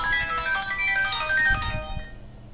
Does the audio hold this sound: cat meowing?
no